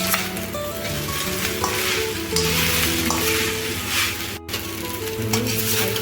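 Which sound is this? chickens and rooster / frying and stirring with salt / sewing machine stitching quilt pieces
frying and stirring with salt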